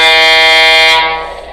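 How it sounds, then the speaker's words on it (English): A WABCO E2 air horn from a Tsunami2 diesel sound decoder in an O scale RS3 model locomotive sounds one loud, sustained, chord-like blast that cuts off and quickly fades. "you can hear a slight variation in that horn, but it is different"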